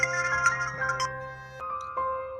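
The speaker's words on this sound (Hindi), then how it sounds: "किसका फोन आ गया बेटा?" A mobile phone rings with an incoming call, a bright, melodic electronic ringtone of stepped tones heard close and clear, with nothing else around it.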